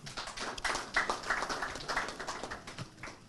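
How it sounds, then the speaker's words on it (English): Audience clapping at an investiture and induction ceremony, a fairly faint, even patter of many hands heard from across a hall that keeps going throughout. "Dr. Ochagoba Edwin, celebrating with a big hand clap again."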